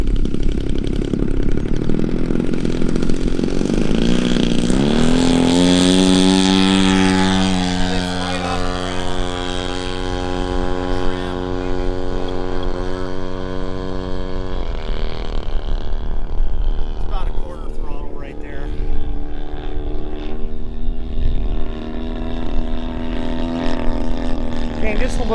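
The DA100 gas engine of a Seagull Models Decathlon RC plane roars at full throttle during takeoff on a breezy day in Williamsport, rising in pitch as it gets going and then fading a little as it climbs, with someone talking over it.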